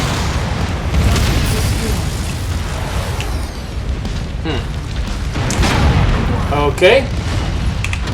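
Destroyed enemy mech explodes in MechWarrior 5 Mercenaries, booming bursts amid continuous game noise and weapon fire, with someone talking over it.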